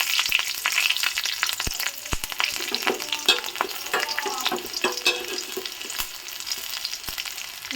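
Black cumin and green chillies fry in hot mustard oil in a kadai, giving a dense, continuous crackling sizzle dotted with sharp pops and stirring clinks, close and without talk.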